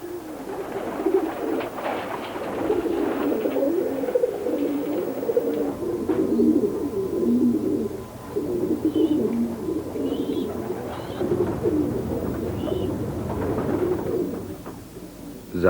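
Racing pigeons coo steadily in a crowded loft in Kowloon Walled City, Hong Kong, a continuous low burbling chorus of many birds with faint chirps above it.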